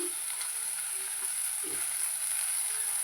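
Sprouted grains frying in a pan, with a steady close hiss and sizzle and a few soft stirring scrapes, no talking.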